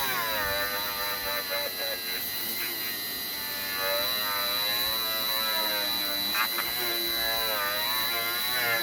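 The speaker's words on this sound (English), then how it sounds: "Let the weight of the Dremel do the work." A Dremel rotary tool runs at a moderate speed setting against a plastic slot car box under light pressure, a steady close electric whine and hum lasting throughout with slight shifts in pitch.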